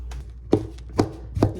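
A knife chops mushrooms on a board, with three distinct thuds spaced about half a second apart over a low steady background hum, close up and with no talking.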